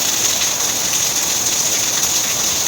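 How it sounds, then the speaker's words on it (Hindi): Heavy torrential rain pours down outside during a thunderstorm, a loud, dense, steady hiss and wash that continues unbroken throughout, with no speech. "मूसलाधार बारिश हो रही है"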